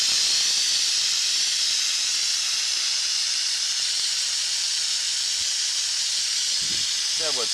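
A compressed-air engine cleaning gun sprays a steady, loud hiss of air and soapy water onto an engine, continuous and close throughout with no pauses.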